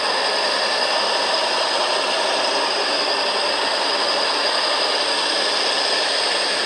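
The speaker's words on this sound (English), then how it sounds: "And now you're grinding." A WerkMaster Boss 110V 1.5HP concrete floor grinder runs continuously, a loud, close, steady high-pitched whine and grinding rush with no breaks or changes throughout.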